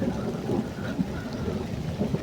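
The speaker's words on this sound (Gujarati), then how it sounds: "કાળા ઉનાળે વરસાદ આવ્યો છે." Heavy rain in an unseasonal summer thunderstorm over farmland, a steady low rushing downpour with faint rumbling underneath, moderately loud and unbroken.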